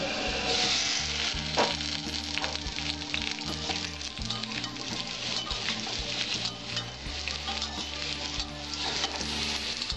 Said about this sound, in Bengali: আমার আলুগুলো লাল লাল হয়ে ভাজা হয়েছে